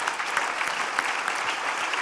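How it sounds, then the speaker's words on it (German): Audience applause for the research team at the Otto Brenner Prize award ceremony, a brief, continuous burst of many hands clapping at an even level. "Applaus fürs Team."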